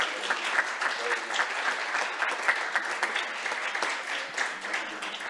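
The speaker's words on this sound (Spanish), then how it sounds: "Ahora sí, le regalamos un aplauso." Audience applause fills a Colombian internet governance forum hall after a human-rights panel, steady dense clapping from a sizable crowd sustained throughout at moderate loudness with no speech over it.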